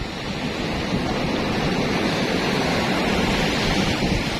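Strong ocean surf roars continuously at a beach in Bolinao, Philippines, a dense wash of breaking waves mixed with wind buffeting the microphone.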